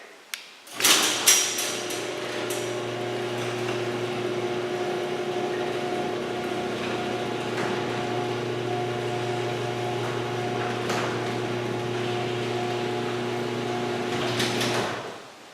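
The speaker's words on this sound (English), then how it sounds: "This opener sounds actually a little bit louder." A Chamberlain LiftMaster garage door opener hums and grinds steadily as a Clopay door rises, a continuous motor drone with faint rattles, ending with a clunk as it stops.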